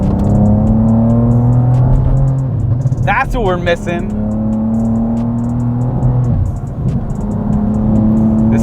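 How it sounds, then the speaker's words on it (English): A BMW G87 M2 with an AWE exhaust and mid pipe, valves open in sport mode, drones loudly and steadily on the road with a low burbling tone, while someone talks briefly over it partway through. "Right now we have the valves open in sport mode with a little burble action"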